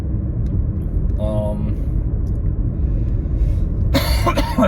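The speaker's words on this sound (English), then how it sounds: "Excuse my coughing" A couple of harsh coughs from an itchy throat break out, near and fairly loud, over a constant low rumble of background noise.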